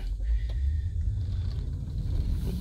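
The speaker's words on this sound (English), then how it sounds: "There's a car going around me." Another car driving around a Tesla on the road, a steady low rumble of engine and tyre noise passing close by, with no other sound over it.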